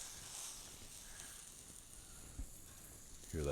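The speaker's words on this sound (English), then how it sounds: "Hear that nice sizzle?" Bacon grilled cheese frying on a 36-inch Blackstone griddle gives off a soft, steady sizzle, close and low, with a brief clatter of the spatula near the end.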